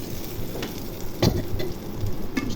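Sweet pumpkin slices fry in a pan of oil with a steady close sizzle, broken by a few sharp crackles and spatter pops, and no voices.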